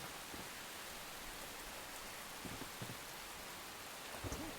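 Steady broadband rain hiss from a building video game, a constant wash of falling rain with no voices, a few faint low bumps near the end.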